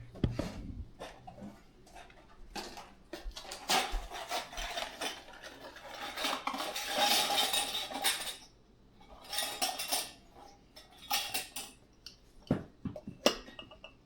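Plastic lids clatter and snap onto containers packed with raw Spanish mackerel in a home kitchen, a run of rubbing, scraping and clinking handling noises, close and moderately loud, with gaps between bursts and no talk.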